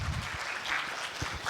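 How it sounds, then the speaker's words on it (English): Audience clapping at an alumni homecoming as guests settle down, a steady crowd patter with a few louder nearby claps. "Let's clap for them as they settle down"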